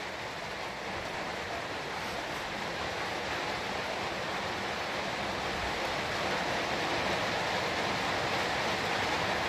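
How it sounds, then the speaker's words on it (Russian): Steady rain drums on a metal-tile roof of a house under construction on Sakhalin, a dense, even hiss that holds at the same level throughout with no voices. "Дождик такой хороший зарядил"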